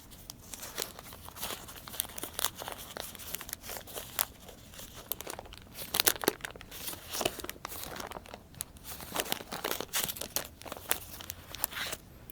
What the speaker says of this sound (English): Inside we use this kind of oil paper to wrap it up.